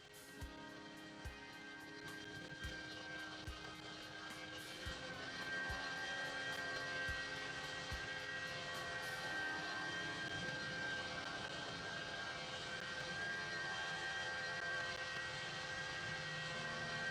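A Delta airliner taking off from runway 24, a steady loud jet engine roar with a high whine, building and sustained, heard from close range without talk.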